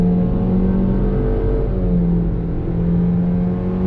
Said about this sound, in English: little acceleration here from a dead stop on throttle